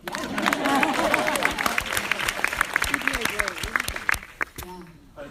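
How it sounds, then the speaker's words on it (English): An audience claps at a televised Lip Sync Battle special event, with the applause dense at first and thinning out, while voices talk and laugh over it. "You can clap for Joe."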